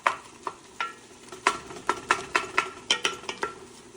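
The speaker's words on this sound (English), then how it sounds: "Alright, this meat is looking good. Give it one more little chop through." Browning ground meat for lasagna being chopped and stirred in a pan: a dozen or so crisp scraping taps of a utensil against the pan, roughly rhythmic, over a faint sizzle, close and clear without talk.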